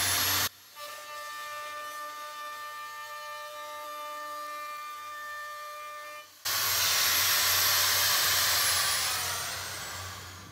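Hand-held router cutting a radius edge, a high whining motor tone that holds steady for several seconds, then gives way to a louder, broader roar of the bit biting into the workpiece.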